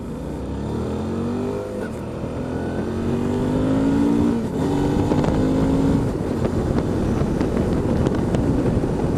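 A car engine revs hard and climbs steadily in pitch as it accelerates toward about 5,000 rpm, a loud, sustained drone close to the microphone with no talk over it.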